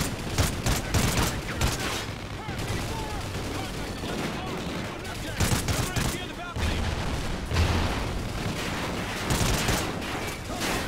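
Dense, continuous machine gun fire and other gunshots from a Call of Duty: Ghosts battle, loud and sustained with overlapping bursts throughout.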